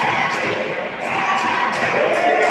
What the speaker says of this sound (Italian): Bel tifo questa sera, veramente intenso da entrambe le parti